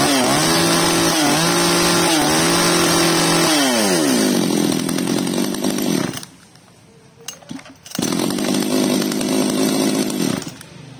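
A Komatsu Zenoah G2500 chainsaw runs loud and close, revving at high speed, dropping to a lower idle, cutting out briefly to near silence, then starting up and roaring again.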